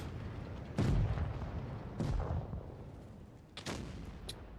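Tank cannons in World of Tanks Blitz fire in three heavy booms spaced about a second apart, each with a sharp crack and a rumbling decay, plus a smaller pop near the end.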